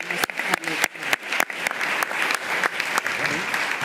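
A press conference audience applauds the cast with steady, moderately loud clapping, sharp nearby hand claps punctuating the wider patter, and faint voices mixed in beneath.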